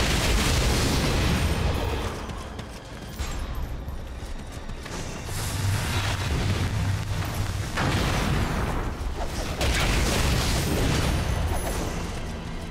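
Cannon fire in the Nioh DLC, heavy booming blasts and rumbling explosions that roll on continuously, loud and close, with a few brief dips between barrages.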